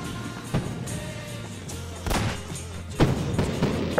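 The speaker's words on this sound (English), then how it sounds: "I'm watching the fireworks" Fireworks bursting in a Minecraft-style video game server show, a handful of muffled booms and thumps at irregular intervals over a low background rumble.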